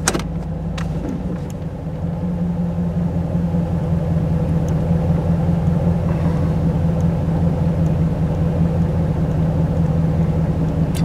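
A third-generation Camaro with a 305 TPI V8 idles in neutral, a steady low rumble with an even pulsing beat held close and loud after a brief clatter at the start, with no voices.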